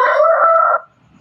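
A rooster crows once at dawn, a loud, close, harmonically rich call held for under a second before cutting off into quiet background.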